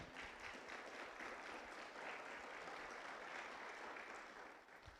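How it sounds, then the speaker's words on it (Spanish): A church congregation applauds during a service, a continuous, even wash of clapping that is very faint throughout. "Démosle un aplauso al Señor."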